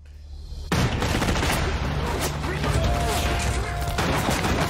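Burst of heavy gunfire and rapid bullet shots from a movie action scene, loud and sustained, starting abruptly after a brief quiet moment and continuing densely to the end.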